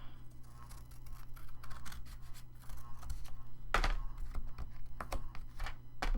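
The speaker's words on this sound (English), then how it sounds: "I can use some scissors right here." Scissors cut paper for a junk journal, producing a quiet string of short, crisp snips and clicks at an uneven pace, close by with no talking.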